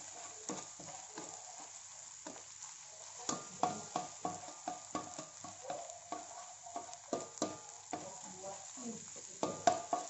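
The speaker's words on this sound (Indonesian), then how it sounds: "Kita masukkan bawang putih yang sudah dicincang kasar. Nah, kita kocok." Coarsely chopped garlic fries in hot oil for fried rice with salted fish, a steady soft sizzle broken by repeated clinks and scrapes of a utensil stirring the pan, close and continuous.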